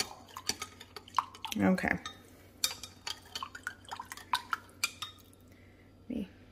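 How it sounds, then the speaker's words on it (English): Light brown sugar spooned into a slow cooker: a series of light clinks and soft scraping taps from a spoon against the pot, with a brief spoken word in between. "I'm gonna start with 2 tablespoons of light brown sugar"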